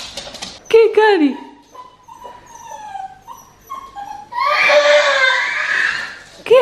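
A young female puppy whines and cries in high, wavering yelps close by, with a burst of sustained higher whimpering near the end, while people talk over and around it.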